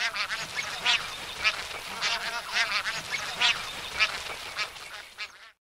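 Bar-headed geese honk in a steady string of loud, close calls over a continuous flock chatter that runs the whole time before cutting off abruptly at the end.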